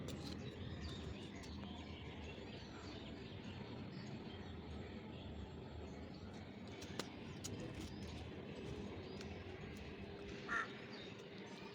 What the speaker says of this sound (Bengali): কাক কাক বলতেছে